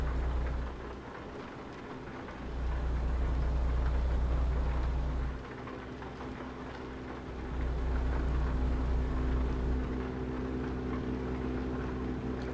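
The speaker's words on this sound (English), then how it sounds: "This little car, this little minivan is surprisingly loud." A small minivan engine drives in a video game, a loud continuous low drone that swells and eases in long stretches, with a hissing wash over it and no voices.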